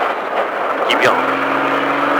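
An off-road stadium truck engine on a dirt track rises steadily as the throttle is opened, a loud continuous drone with a sweeping pitch climb near the middle, while an instructor's voice talks over it.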